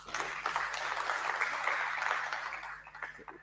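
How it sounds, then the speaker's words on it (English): A seminar audience gives a round of applause, moderate and even, swelling briefly then tapering off as individual claps thin out near the end. "You may just continue and give her that round of applause."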